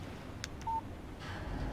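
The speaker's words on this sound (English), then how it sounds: "Text message from Barry" In the Alan Wake video game, a mobile phone gives a short electronic text message alert: two quick beeps followed by a single clear tone, fairly quiet over low background ambience.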